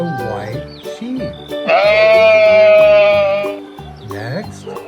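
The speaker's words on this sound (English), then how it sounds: "It's a sheep. A white sheep." A white sheep lets out one long, loud, wavering bleat lasting about two seconds, with people talking just before and after it.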